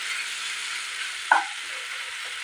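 Ten to twelve cashews fry in a pan for paneer curry, giving an even, steady sizzle throughout, with one brief clink or scrape near the middle, close by and without talk.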